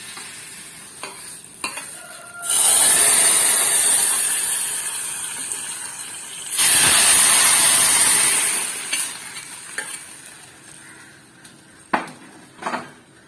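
A loud burst of sizzling as a chili tempering is poured into mango pulissery curry in a pan, with two long hissing surges between quieter spoon stirring and light clinks of utensils.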